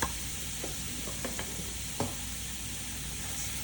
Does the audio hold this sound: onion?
yes